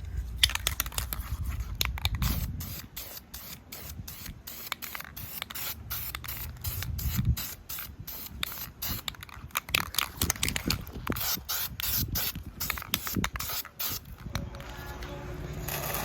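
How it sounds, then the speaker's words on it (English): Aerosol spray paint hissing onto a cleaned Jeep Wrangler TJ tailgate with no primer, in repeated short bursts and longer passes close to the surface, no talking. "So I'm going to spray this on there, no primer needed, right here on the middle."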